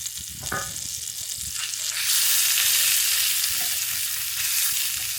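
A hot dog sizzles in a pan as it is spun, the frying hiss swelling louder after a few seconds, with light scraping underneath and no voices.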